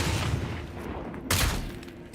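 A gun fires in a video game where the player fights skeletons, producing a loud, sharp blast that stands out from a dense, noisy game soundscape with no talking.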